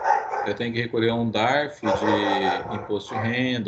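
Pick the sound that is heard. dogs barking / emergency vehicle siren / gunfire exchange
dogs barking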